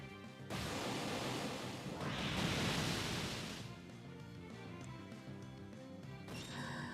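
Waterfall attack effect in Pokémon Rising Ruby, a loud rushing watery surge that swells for about three seconds and then fades into softer game sound.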